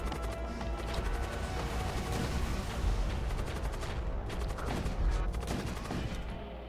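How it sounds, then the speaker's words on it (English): A dense, continuous barrage of missile fire in the space combat game Void War rumbles and crackles without pause, loud and busy throughout. "Why are they shooting missiles?"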